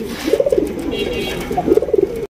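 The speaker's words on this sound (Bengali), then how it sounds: "এখানে রয়েছে চমৎকার আরো একজোড়া লাল কালেকশন কালারিং রাজগোল্লা কবুতর" A pair of red Rajgolla pigeons coo close by in two rolling bursts of soft, throaty warbling notes, with a faint background hum.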